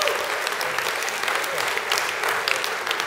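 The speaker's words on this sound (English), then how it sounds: "I want y'all to give a round of applause to Reverend Hall for the food" An audience at an evening awards ceremony in San Francisco breaks into loud, steady applause that lasts the whole stretch without any break.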